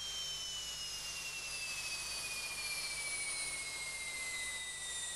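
Military fighter jets such as Phantoms, Alpha-Jets and Tornados fly extremely low over Labrador near Goose Bay, heard as a steady, faint, far-off jet roar with a slowly descending whine.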